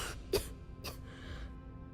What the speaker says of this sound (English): she's the one that coughs constantly